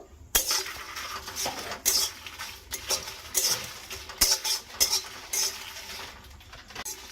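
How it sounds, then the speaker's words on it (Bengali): Dry red chillies rattling and scraping in a metal wok as they are stirred, with frequent clinks of a spatula, close and steady. "শুকনো লঙ্কাটা বেশ কিছুক্ষণ নাড়াচাড়া করে নেব।"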